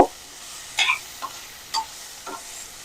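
Garam masala being sautéed in a pan for a Tamil chicken pasta, with a few scattered spoon scrapes and stirring clicks over a faint sizzle.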